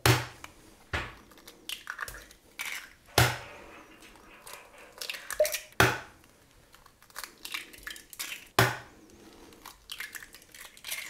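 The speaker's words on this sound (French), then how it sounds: "je vais casser les œufs et on va les peser" Eggs cracked into a salad bowl on a kitchen scale, a series of sharp knocks and crisp shell cracks, roughly eight distinct hits spaced unevenly, close and fairly quiet with light handling noise between them.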